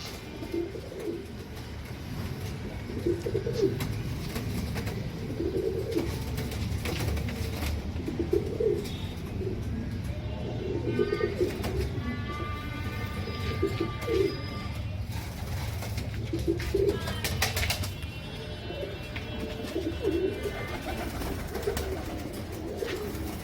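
Large Ambarsary pigeons coo softly in repeated low, throaty phrases, several birds at close range over a faint background hum, with occasional higher chirps.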